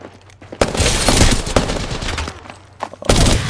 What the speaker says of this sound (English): Spam bots are shooting at me.